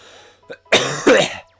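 A single close cough, a short throat-clearing burst followed by a harsher, louder hack, with no talking.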